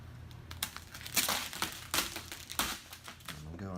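A knife blade scoring and trimming gloss black vinyl wrap along a car roof edge, heard as a series of close, crisp crinkling and slicing strokes with irregular rhythm and no talking.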